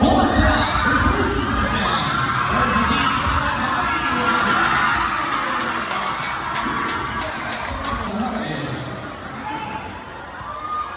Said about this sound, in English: That is someone yelling bounce pass.